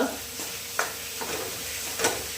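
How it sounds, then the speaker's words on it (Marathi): Gram flour (besan) is stirred in hot oil with green chillies, spinach and peas, giving a soft steady sizzle with a few scraping strokes of the spoon against the pan, close and fairly quiet. "हे असं सारखं हलवत आहे हे बेसन जे पीठ आहे ते यामध्येच टाकलं आहे म्हणजे ते पण तेलामध्ये छान मस्त"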